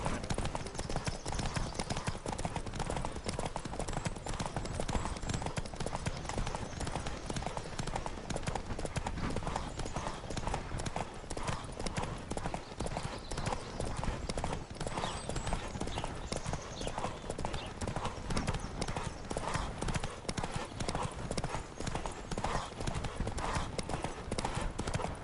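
Galloping horse hooves pound steadily and close throughout a horse race in The Witcher 3, a dense, continuous rhythmic drumming with faint voices underneath.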